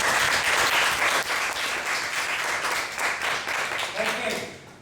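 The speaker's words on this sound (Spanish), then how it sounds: "Aplauso." Dense audience applause in a lecture setting, steady clapping from many hands throughout, loud and continuous with faint voices mixed in.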